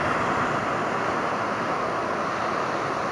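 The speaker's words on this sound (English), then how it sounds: "There you go, guys. It's the beautiful Atlantic Ocean here." Atlantic Ocean surf near a pier, a continuous broadband rush of breaking waves blended with gusting wind buffeting the microphone, steady and loud throughout with no voices.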